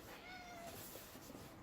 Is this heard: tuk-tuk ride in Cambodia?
no